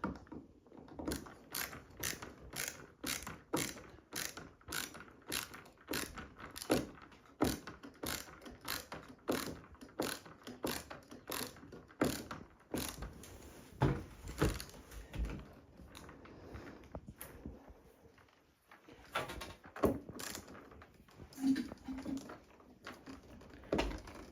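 Two screws being backed out of a ceiling fan mounting bracket with a ratcheting driver, a rapid run of steady, close clicks repeating almost continuously for about twenty seconds before slowing into scattered clicks.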